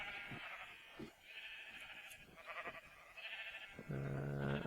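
Sheep in the Minecraft video game bleat in a few short, nasal calls, ending with a louder, sustained bleat, with no one talking.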